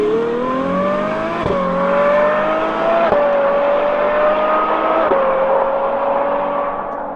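A Ferrari 812 Superfast's V12 engine revs hard and pulls through the gears, a loud continuous high-pitched roar with brief dips at each shift, close and steady without any voices.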